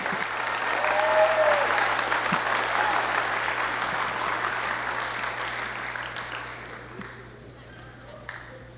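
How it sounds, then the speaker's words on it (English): Loud applause from an audience at a high school scholarship night, a dense roar of clapping that swells early and then gradually fades over several seconds. "One more a loud round of applause for the McNeil family."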